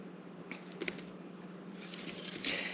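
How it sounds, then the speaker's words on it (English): Partly frozen peaches pour from a container onto cobbler batter, giving a soft, wet squishing and light patter that builds toward the end, quiet and close with no one speaking. "all we're going to do now is pour our peaches on top."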